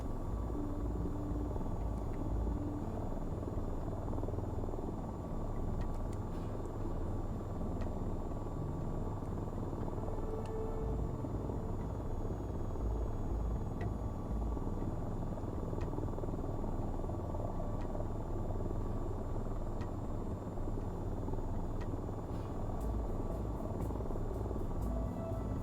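Helicopter in the VTOL VR flight game flying low through a valley at night, a steady loud rotor buzz and engine drone that continues unbroken throughout.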